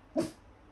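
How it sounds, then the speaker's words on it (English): A single short dog bark, brief and moderately close, followed by quiet. "stop barking."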